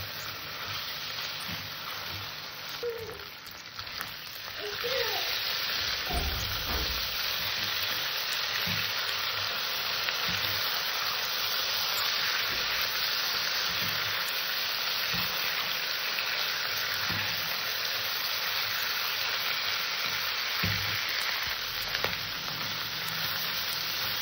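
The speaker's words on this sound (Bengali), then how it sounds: "তরকারিটাকে আমাকে ভালো করে কষতে হবে, যাতে আদা জিরের যে কাঁচা গন্ধটা সেটা না থাকে" Ginger-cumin masala for a katla fish curry sizzles and fries steadily in a pan, a dense continuous hiss throughout with occasional stirring knocks, and no talking.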